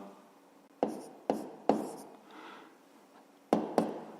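Pencil or pen strokes on paper while writing a math equation by hand: five short, quiet scratchy taps and strokes in irregular rhythm, close by, with a faint voice briefly in between.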